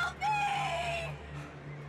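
Shadow birds in the video game Alan Wake Remastered give a loud, shrill, squawking cry with a falling pitch, followed by fainter screeches over a low steady hum.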